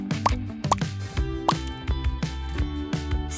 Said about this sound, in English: Then add some drops of food coloring.